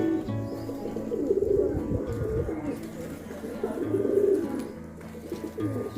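Several Kalsire high-flyer pigeons coo in repeated soft, throaty phrases close by, with light rustling and faint background sounds between the calls.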